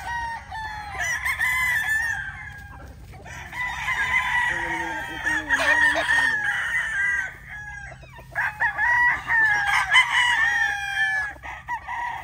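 Young white Kelso roosters, Cashmina White stags, crow repeatedly and overlap one another at close range, with loud strained calls filling the space and occasional clucking between them.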